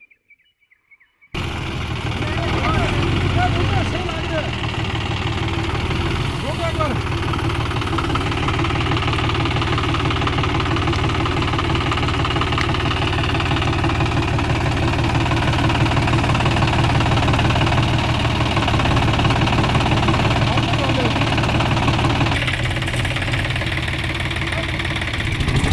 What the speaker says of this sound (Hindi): देखो ट्रैक्टर फंस गया